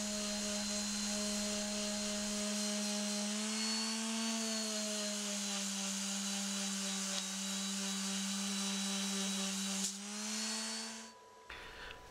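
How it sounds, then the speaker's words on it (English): A steady, droning power sander works a painted surface, whining continuously at close range, its pitch shifting slightly before cutting out near the end. "I give the surface a good sanding."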